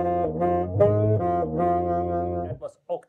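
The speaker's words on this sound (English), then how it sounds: "So here comes the Octamatic effect." Saxophone played through a Selmer Varitone with the Octamatic octave effect, sustained harmonic-rich tones with a thick doubled low octave beneath each note, heard alone and close before trailing off into brief faint noises.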